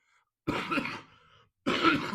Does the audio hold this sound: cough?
yes